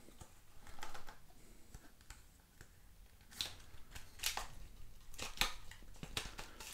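Packaging for a Xiaomi Watch S3 frame is opened up close, with scattered crisp clicks, crinkles and snips of handling against a quiet room and no talking.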